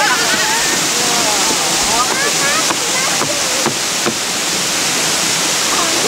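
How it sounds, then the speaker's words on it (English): Rushing water pours steadily from Russell Falls in Mt Field National Park, Tasmania, loud and constant, with children's voices and chirpy calls over it. "You like the waterfall?"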